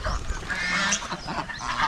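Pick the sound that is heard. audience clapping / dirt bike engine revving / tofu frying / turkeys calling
turkeys calling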